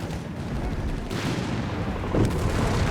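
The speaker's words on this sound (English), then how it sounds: "We got machine gun bunkers being lined up to support the southern victory" Battle din from Company of Heroes 3, with machine gun fire mixed into a dense, continuous wash of rumbling explosions and distant shots, staying steady and rising slightly toward the end.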